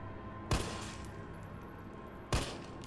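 Two sharp gunshots in the Resident Evil 3 video game, about two seconds apart, loud against a steady game background hum with no talking.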